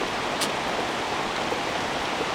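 Steady rain falls as an even, close hiss with no breaks and no voices.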